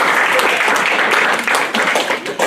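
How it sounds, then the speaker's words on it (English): Dense, steady applause from a seated audience honoring the panelists at a Girl Boss panel, continuous and fairly loud throughout with a slight dip midway. "Can we give them a round of applause?"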